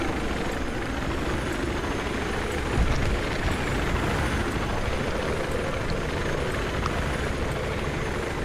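A helicopter in the video game Battlefield 3 gives off a steady, loud rotor and engine drone that holds without a break for several seconds.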